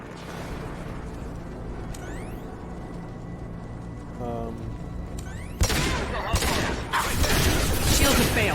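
Mass Effect 2 firefight against Blue Suns mercenaries and Vorcha: mechanical clanks and faint background shots give way to a loud, dense burst of gunfire in the final three seconds, with a voice speaking over it.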